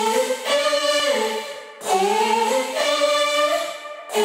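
A lead built from a chopped background-harmony vocal, auto-tuned and drenched in distortion and reverb, sustains as buzzy pitched tones in two long phrases, loud and upfront with no talking.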